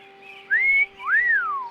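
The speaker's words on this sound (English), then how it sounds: "Wait, let me hear that whistle again." Two rising-and-falling whistled notes from the PC horror game Harvester, a loud, clear wolf-whistle-style sound effect with the game music cut out and a faint steady hum beneath.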